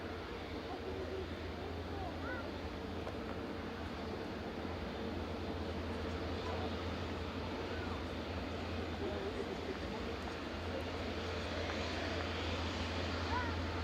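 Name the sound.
airliner taxiing at Manchester Airport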